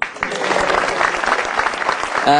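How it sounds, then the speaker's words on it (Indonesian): Applause from a stand-up comedy audience at a televised Indonesian show, dense steady clapping filling the room for about two seconds and cutting off abruptly at the end. "Tepuk tangan dong."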